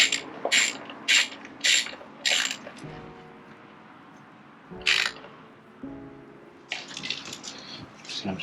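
A ratchet turning a spark plug on a Lincoln MKX, with a few sharp clicking bursts followed by quieter metallic creaks and a rattling run of clicks near the end, close up with no talk.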